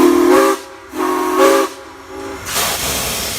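Steam whistle of Frisco 1630 locomotive as it begins to move, sounding three separate blasts over a bed of hissing steam, fairly close and loud.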